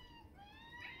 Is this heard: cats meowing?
yes